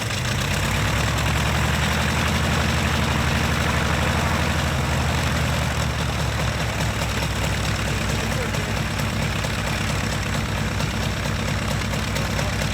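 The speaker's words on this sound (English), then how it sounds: "Crank up that exhaust, folks, because the Skyraider is coming to town." Douglas AD-4 Skyraider warbird's radial piston engine running at a warbird weekend, a loud, steady deep rumble with a rough, throbbing idle that holds throughout, with no clear talk over it.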